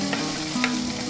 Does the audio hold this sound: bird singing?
no